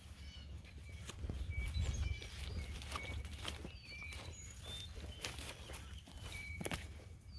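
Many hooves patter and thud across the ground as a flock of sheep runs by, with faint birdsong in the background and no talking.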